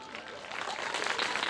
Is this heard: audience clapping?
yes